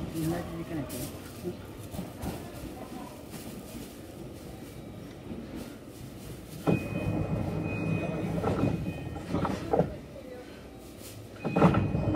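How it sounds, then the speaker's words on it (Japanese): A JR Kyushu Kashii Line local train rumbles and clanks as it starts moving from a station, with a steady tone and muffled voices in the background, rising in loudness toward the end. "普通列車の斎藤崎行き、まもなく発車いたします。"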